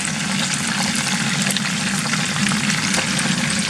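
Fish fries in deep oil just after being turned, a dense, continuous close sizzle with bubbling crackle throughout and no talking.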